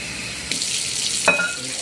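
Water is poured into a bowl to rinse seitan dough, a short hissing splash starting about halfway through, with a small clink partway in, heard alone at close range.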